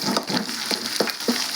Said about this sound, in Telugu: నేను కొద్దిగా ఇందులో అల్లం వెల్లుల్లి పేస్ట్ వేస్తున్నాను.